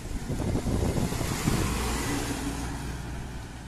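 A Pandharpur state transport bus pulls in during flooding, a loud, steady engine rumble mixed with gusting wind and no voices.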